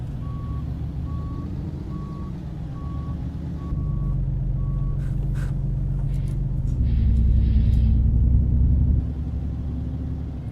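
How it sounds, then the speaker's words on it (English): Reversing beeps from a Mack Superliner truck in the American Truck Simulator game, a steady evenly spaced series of loud beeps over a deep diesel rumble, then the engine swells louder as the beeping stops. "If I can back it straight up and not hit any of those cars, that should work."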